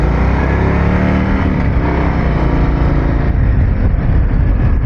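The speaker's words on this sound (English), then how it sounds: "I don't know about the sound of the engine." A steady, loud engine drone from a 2023 Harley-Davidson CVO Street Glide runs throughout with a deep low rumble and no pauses, like a motorcycle cruising at constant speed.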